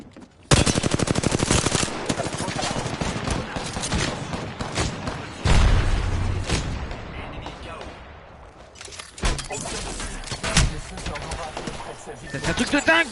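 Rapid automatic gunfire and bursts from an Apex Legends match, with a loud grenade blast standing out partway through, heavy, near and nearly continuous, with brief lulls between volleys.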